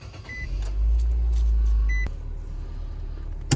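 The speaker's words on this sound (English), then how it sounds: "we're just going to start it up, let it run, let that new oil just flow through the engine" A car's engine starting up and idling after an oil change, with keys jingling and a chime early, then a deep low rumble that settles into a steady, quieter idle; no voices.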